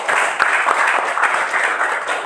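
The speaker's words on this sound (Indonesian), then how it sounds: "Oke, tepuk tangan." A classroom of children applauds after roll call, a steady wash of dense clapping with a few sharper claps standing out, loud and close, lasting about two seconds.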